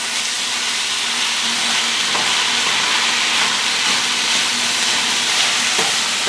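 Potatoes and vegetables seasoned with garlic powder, pepper and onion powder sizzle steadily in a pan as they are tossed together. The hiss stays close and even throughout, with a few faint clicks.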